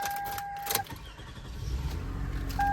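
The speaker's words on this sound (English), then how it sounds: "let's see how good does the car start" A car being started after a check-engine sensor fix, with a short warning chime, then the engine cranking and catching into a rising rumble, close by and alone.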